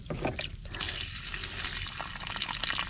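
Water drains from a Forest River camper RV's plumbing system near the hot water heater, a steady hissing trickle and splash that runs continuously at close range.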